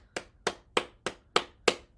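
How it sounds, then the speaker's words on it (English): Six sharp hand claps at an even, unhurried beat, each crisp and close, with quiet between them. "Clap your hands."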